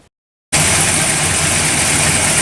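A car engine idles steadily after a backwards-wired ignition coil was corrected, starting abruptly after a brief silence and holding an even, close, loud running note.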